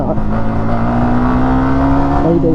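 A Yamaha R15M motorcycle engine revs loud and close during a clutchless quickshifter gear change, a continuous strained drone whose pitch climbs steadily.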